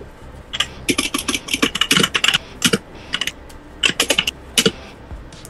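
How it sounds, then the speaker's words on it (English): A deck of Future Card Buddyfight trading cards being shuffled at a tournament table, quick bursts of crisp riffling and snapping in uneven clusters, close and clear with no talk. "Shuffle my deck."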